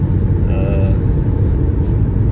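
Steady low road rumble from a vehicle driving westbound into downtown Pittsburgh through hilly western Pennsylvania terrain, slow-moving traffic around it, a continuous close drone with no voices over it.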